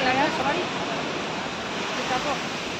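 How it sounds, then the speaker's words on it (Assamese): Sea waves wash onto a beach in a steady, broad roar of surf that stays loud and continuous, with a breezy hiss throughout. "আৰু সেয়া আহি পালোহি সাগৰৰ পাৰ।"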